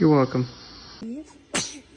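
A newborn baby gives a short, sharp sneeze near the end, loud and close, after adults speak softly nearby.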